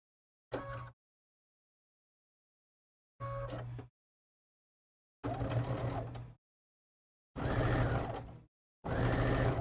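A sewing machine stitches over a thick hump with the help of a hump jumper, running in five short separate bursts of rapid mechanical whirring with silence between them, the later bursts longer and louder.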